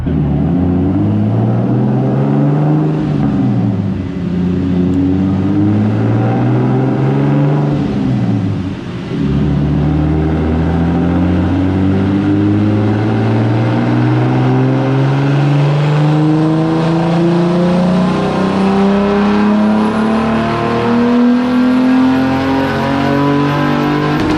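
A turbocharged BMW E34 with an M50 engine runs hard on a dyno, its loud, close exhaust note climbing steadily through long pulls with a couple of brief dips before revving up again, no talking over it.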